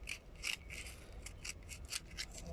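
Emery paper rubs and scrapes the horn contacts of a Lexus LX 570 in short, repeated strokes, faint and close.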